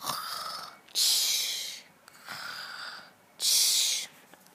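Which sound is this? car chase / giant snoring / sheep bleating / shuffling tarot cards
giant snoring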